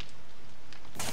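Rain falling in a survival video game, a steady dense hiss lasting about a second that swells louder at the very end.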